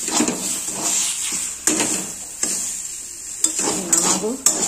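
A mixture is sautéed with salt and turmeric in a pan, giving a close, fairly loud sizzle with repeated spatula scrapes and clanks against the metal.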